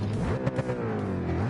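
A Ford Mustang V8 in Gran Turismo 7 revs with a deep, throaty burble. The engine note rises and falls over a steady low rumble and stays close and prominent throughout.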